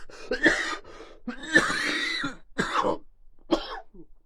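A person coughs several times in harsh, throaty bursts separated by short pauses, ending with a softer final cough.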